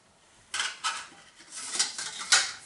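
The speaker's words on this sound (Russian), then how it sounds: "Чугунная сковорода." A cast-iron frying pan is handled on a kitchen stove, giving a run of metallic clanks and scraping knocks of uneven rhythm at close range, with no voices.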